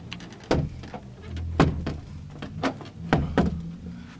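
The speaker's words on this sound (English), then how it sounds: "I gotta close the door." A door being closed, several close knocks and thuds of the door and latch in an uneven sequence, fairly quiet with some rustle between the hits.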